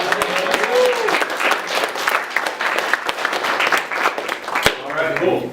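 Audience applause at a spring club general meeting, a dense, steady wash of clapping from a crowd lasting throughout, with a few sharper individual claps standing out near the end.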